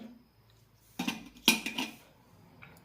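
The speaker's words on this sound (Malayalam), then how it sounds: "എല്ലാം നന്നായി മിക്സ് ചെയ്യാം" Wheat flour sweet dosa batter is stirred in a bowl with a spoon, giving a few close scraping clinks around a brief, quiet, isolated burst. No one talks.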